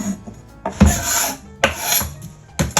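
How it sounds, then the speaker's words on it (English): A utensil scrapes breading off barbecued pork in several short, rasping strokes with brief pauses between them, close up with no voices. "Take that, scrape it away."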